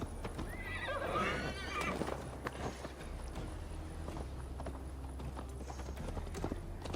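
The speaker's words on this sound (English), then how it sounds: "Mount up, Eivor. It's a long ride to Tamworth." Horse hooves clip-clop steadily as a rider mounts up in the Viking-era game Assassin's Creed Valhalla, with a whinny near the start and a constant low rumble of ambience underneath.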